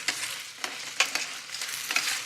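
Pan drippings boil and sizzle in a roasting pan during fat-free dry-heat roasting, giving a steady close hiss broken by small crackles and pops.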